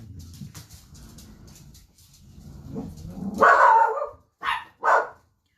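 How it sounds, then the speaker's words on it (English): Dogs bark loudly and close by in a home, several sharp barks in quick succession after some low rustling and muffled sounds. "So sorry about my dogs."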